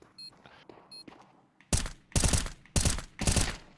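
Four loud, sharp bursts of gunfire from Counter-Strike 2 fire in quick succession at close range, each a heavy crack with a short tail, preceded by quiet game sounds and small beeps.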